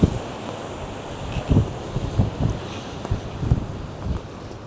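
Ocean waves break near the coast with repeated low surging washes, close and fairly loud, mixed with gusty wind buffeting the microphone. No voices can be heard.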